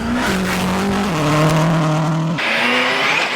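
A rally car brakes hard from fifth gear approaching a gravel hairpin, its engine note stepping down through several downshifts before a sharp change as the car slides, loud and close from onboard.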